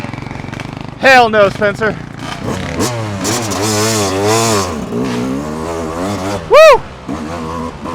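A Yamaha YZ250 two-stroke dirt bike engine revs hard and climbs in pitch while being pushed uphill at a motorsports park, loud and close, with excited shouting breaking in over the engine.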